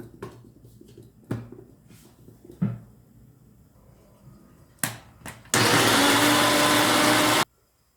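A blender roars at full power for about two seconds, blending lemon and sour cherries for juice, preceded by a few scattered clunks and knocks.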